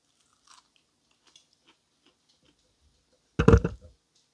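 Near silence with faint small clicks, then one loud crisp crunchy bite of fried fish lasting about half a second, close to the microphone.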